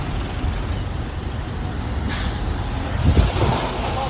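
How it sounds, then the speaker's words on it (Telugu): Heavy highway traffic on the Mumbai–Gujarat road rumbles steadily, with a sharp air-brake hiss from a nearby truck midway and a heavier engine surge toward the end. "ముంబై నుంచి గుజరాత్కి వెళ్ళే దారిలో ఫుల్ ట్రాఫిక్ అయిపోయింది"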